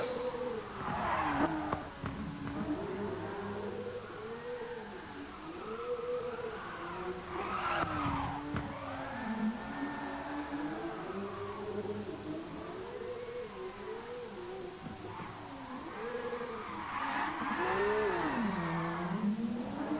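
A car drifting sideways on the Nordschleife in GT Sport, tires skidding and squealing in long wavering tones over a revving engine that rises and falls through gear changes, steady and fairly close throughout.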